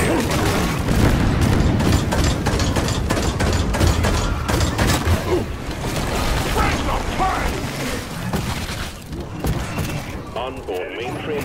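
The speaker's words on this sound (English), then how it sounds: "Cluster grenade!" Cluster grenade detonations in Deep Rock Galactic go off as a rapid string of thumping bursts amid mechanical clatter and a loud busy battle mix, with a character's voice lines over the top.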